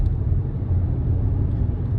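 Low, steady engine rumble from an Audi A3 with a 1.4 petrol hybrid engine, a continuous even drone with no speech.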